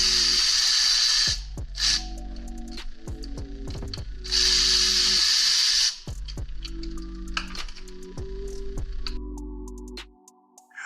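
A hand ratchet loosens 12 mm bolts on the alternator of a 2022 GR86/BRZ during engine removal, giving close, loud bursts of rapid clicking separated by short pauses and clanks, with no voices.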